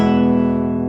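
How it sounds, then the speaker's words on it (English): A single chord rings loud and sustained on a 1989 Richard Schneider Kasha classical guitar with a redwood top and back and Brazilian rosewood, its back vibrating freely, close up and alone. "So if you play a chord without your body touching the back, it sounds like this."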